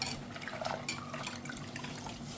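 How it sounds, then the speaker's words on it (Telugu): Water being collected and poured into a container for washing, a soft running, trickling splash with faint drips, fairly quiet and steady with no voices. "నీళ్ళు పట్టి ఇందులో వేస్తున్నాను"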